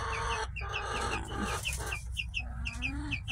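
Backyard chickens and roosters, including young birds from a recent hatch, cluck and chirp repeatedly close by, with a rapid series of short calls over a steady background hum.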